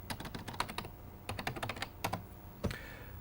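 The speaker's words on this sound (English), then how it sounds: "If I go up here and type in worldwideweb.microsoft.com" Quick bursts of keystrokes on a mid-1990s computer keyboard as a web address is typed, close and crisp, in uneven clusters with short pauses between, no voice over them.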